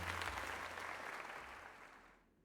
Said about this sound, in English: let us give her the heartfelt round of applause